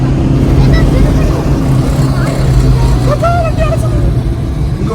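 A car driven by a first-time solo driver, with a steady low engine and road drone close up throughout and occasional voices talking over it.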